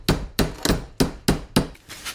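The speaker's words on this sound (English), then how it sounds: "Take my hammer." Six sharp hammer blows strike a metal part during work on a Jetta, close and loud in a steady rhythm with short ringing decays and no talking.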